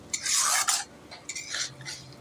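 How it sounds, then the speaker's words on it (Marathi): A spoon scrapes and stirs through a dry mixture of spices and pigeon pea kernels in a metal pan in a few short bursts, with no voices. "याला आता पूर्ण मिक्स करून घेऊया आपण."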